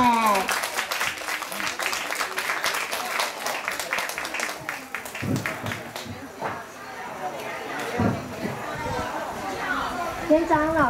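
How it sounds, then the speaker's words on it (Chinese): Parents in the audience at a kindergarten graduation ceremony in Changhua applaud to welcome a young girl singer, a steady wash of many hands clapping that runs through most of the moment, with voices chattering over it. "请现场爸爸妈妈掌声欢迎他"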